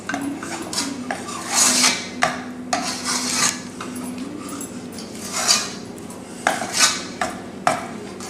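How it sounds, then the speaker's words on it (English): Thick cashew barfi (kaju barfi) mixture is stirred in a pan while it cooks, with close, repeated scraping and clinking strokes against the metal in an uneven rhythm and no talking. "stir it so that it's mixed thoroughly."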